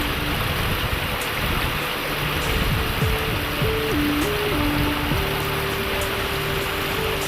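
A mountain stream in Norway flows steadily and close by, a dense continuous rush of water with small splashes and trickles, heard alone with no voices.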